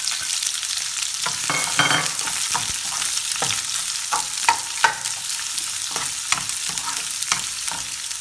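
Chopped onions sizzle in hot oil for lemon rice, a steady close frying crackle broken by stirring scrapes and occasional pops, with no voices.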